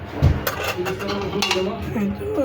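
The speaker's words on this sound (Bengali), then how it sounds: "ঢাকনা দিয়ে ঢেকে দিলাম" A lid set down on a cooking pot of beef tehari gives a quick metallic clank and a few rattling clinks, followed by faint kitchen noise and low background sound.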